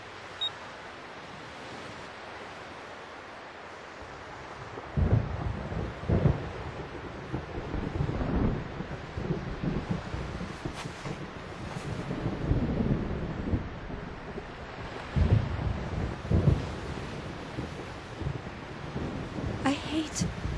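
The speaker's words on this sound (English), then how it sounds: "I hate thunder." Thunder rumbles and wind gusts on a beach in the video game Xenosaga Episode 1, low booming rolls arriving in several waves over a steady windy hiss, with characters talking over it.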